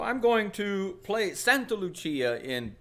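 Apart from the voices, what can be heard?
No everyday noises stand out.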